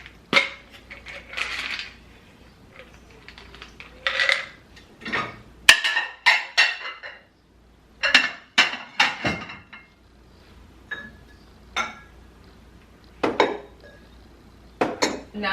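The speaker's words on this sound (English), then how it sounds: "Let's finish this orange juice so I can put those dishes away" Dishes and cutlery clink and clatter as they are unloaded from a kitchen dishwasher and put away, in a run of sharp, close knocks and chimes broken by short quiet pauses.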